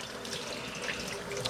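A kitchen sink tap runs water for washing up with a continuous, fairly soft splashing hiss. It is heard alone and sounds close by.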